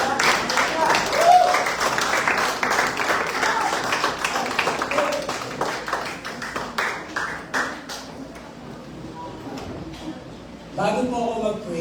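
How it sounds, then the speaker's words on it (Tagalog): A church congregation at a Sunday Mother's Day service applauds, and the dense clapping fades gradually. A voice speaks over it, and a few isolated claps remain near the end. "At bigyan muna natin yung palakpak"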